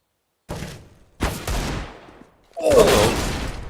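Rapid in-game gunfire from an AK rifle and a Desert Eagle pistol in a Counter-Strike-style shooter match, arriving as three loud separate bursts, the last one densest and longest, with no talk over them.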